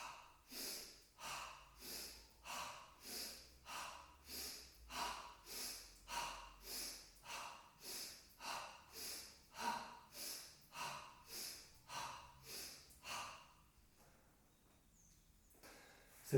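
Slow, deep belly breathing during a diaphragm-strengthening exercise: about a dozen close, loud, rhythmic breaths alternating between in and out, each a soft airy rush, before they fade into near silence at the end.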